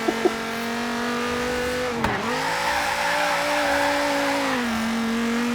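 Dodge Viper ACR engine in Forza Horizon 3, a loud sustained roar that dips sharply on a gear shift and climbs again with rising revs, a couple of faint clicks at the start.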